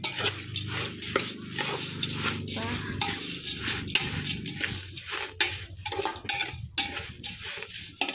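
Batter is stirred in a pot after hot water is added, giving repeated scraping and clinking of a utensil against the pot in an irregular rhythm, with faint background voices.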